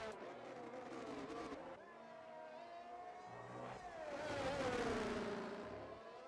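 Racing car engines drone and rise as cars lap the Suzuka track during a sim racing Japanese Grand Prix, a continuous revving pass swelling louder toward the end, with commentary over it.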